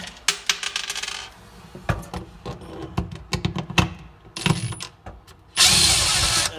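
Metallic clinks and short scraping clicks as two screws are backed out of a side panel during storm and water damage repairs, close and irregular, ending in a sustained loud rustling burst.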